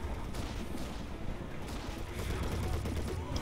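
Sustained submachine gun fire, MP40s, in the Men of War video game during a co-op battle, a dense continuous crackle of shots blending into a steady roar of combat with no pauses.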